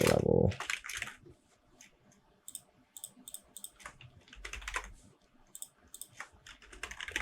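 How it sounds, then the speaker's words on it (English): Computer mouse and keyboard clicks while holding Alt for multi-line editing in the Godot editor, a loose series of sharp close clicks and taps scattered over several seconds with quiet gaps. "I'm just holding Alt and clicking to do multiple lines"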